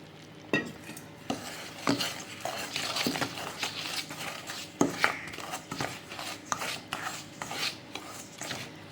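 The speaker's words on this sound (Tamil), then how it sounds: "இதை நல்லா கொதிக்க வச்ச தண்ணியை பார்த்திங்கன்னா நம்ம கொஞ்சம் கொஞ்சமாக இதெல்லாம் ஆட் பண்ணி இந்த மாவை பிசைய வேண்டியது தான்." Rice flour dough is kneaded and mixed by hand with boiled water in a bowl, producing close, rhythmic scraping and squishing strokes with occasional sharper knocks against the vessel.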